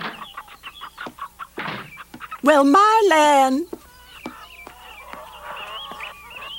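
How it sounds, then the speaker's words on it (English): Ducks quacking, with one loud drawn-out honking call in the middle and shorter squawks around it, mixed with people talking. "Hey, look at the duck."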